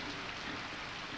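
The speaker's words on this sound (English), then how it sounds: "The bloody rain." Steady rain falls in a dense, even hiss, a constant wash of drops on surfaces with no pauses and no voices.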